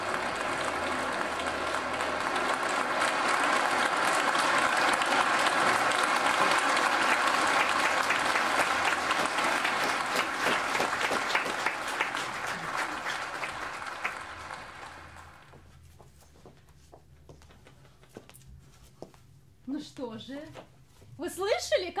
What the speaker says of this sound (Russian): слышали, как нам аплодировали?